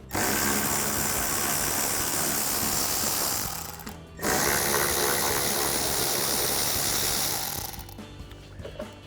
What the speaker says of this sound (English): So we'll grab a 7mm socket to take these out.